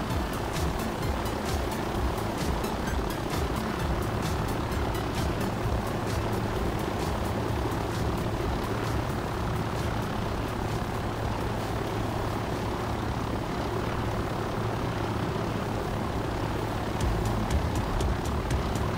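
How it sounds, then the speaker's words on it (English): Aircraft flyby in the FlightGear flight simulator, a steady engine drone with a faint low hum underneath, holding even and fairly loud for the whole stretch, with no voices. "Flyby still awesome."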